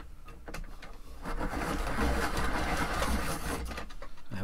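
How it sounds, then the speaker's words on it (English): An X-Acto rotary pencil sharpener, mounted on the side of a desk, grinds a snapped pencil back to a point, giving a steady close mechanical whirring and grinding that swells for a few seconds before easing off. "desk side mounted X-Acto rotary sharpener"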